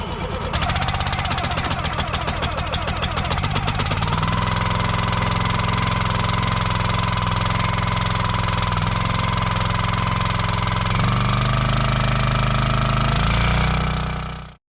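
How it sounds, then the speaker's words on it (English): A Kohler engine on a County Line 25 ton log splitter starts in the cold with a rapid knocking crank, then settles into a loud, steady, rough idle before shutting off. "Kohler motor, thing fires right up every time."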